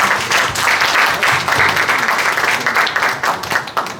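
Big round of applause from guests at an author's book launch celebration, dense clapping sustained for about four seconds, loud and close, with a few voices under it.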